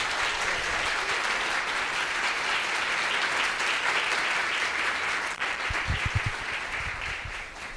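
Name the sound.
applause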